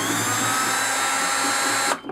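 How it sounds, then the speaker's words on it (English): Power drill whining steadily as it cuts down through a plastic Dutch bucket for outdoor hydroponics, loud and close, stopping abruptly near the end. "then would take my drill"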